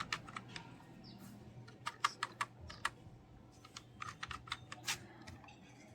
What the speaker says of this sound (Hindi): मैं यहाँ पे इसको टाइप करके लिख सकती हूँ